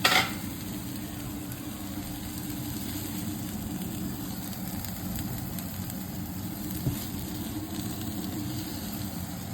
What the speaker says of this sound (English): And saute the pepper, cut into small cubes.